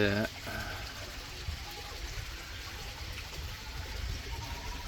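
A small waterfall trickling into a backyard frog pond gives a soft, steady wash of running water, with a brief voice at the very start.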